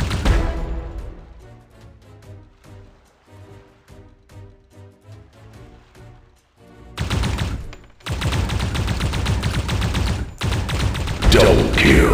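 Gunfire in the mobile shooter Wild Lands XL: spaced single shots crack out at first, then dense, loud automatic bursts of rapid fire dominate the latter half.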